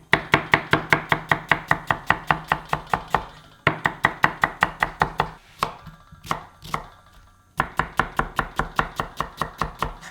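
A knife chops a halved onion on a board in quick, even strokes, a close, crisp run of rapid taps broken by two brief pauses and a few scattered cuts before the steady rhythm resumes.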